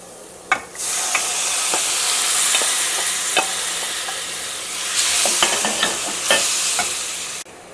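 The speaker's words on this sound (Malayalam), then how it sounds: "ഇതിലേക്ക് നമ്മൾ കട്ട് ചെയ്ത് വെച്ചേക്കണ ചിക്കൻ ഉണ്ടല്ലോ, ചിക്കൻ ചേർക്കാം." Cut chicken tipped into a hot pan with capsicum, then frying: a steady loud sizzle and hiss with sharp clatters of a spoon stirring and scraping against the pan.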